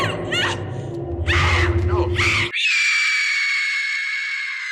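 A voice imitates shrill screaming: a high, piercing sustained shriek follows a burst of excited vocal sounds, loud and close.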